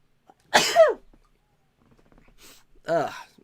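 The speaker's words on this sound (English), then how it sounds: "Hold on, I gotta sneeze." A sharp, forceful burst from a single person, a sneeze or cough-like expulsion, followed after a pause by a second shorter breathy burst, close and fairly loud.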